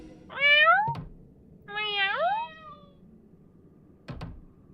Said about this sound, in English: Oh my god, kitty! It's been trapped there all this time.